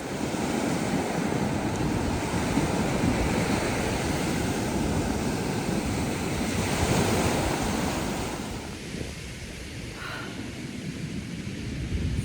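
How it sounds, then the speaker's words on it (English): Ocean waves break and wash onto a beach on the Sapphire Coast near Mimosa Rocks, a steady loud roar of surf with some wind, easing slightly toward the end with no voices. "So I'm just sitting on the beach,"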